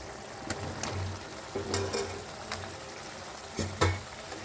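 Sizzling in a pan as potatoes go into frying yogurt masala for Rajasthani dahi aloo sabzi, with steady frying hiss and a few sharp bursts of crackle and clatter, close and moderately loud with no talking.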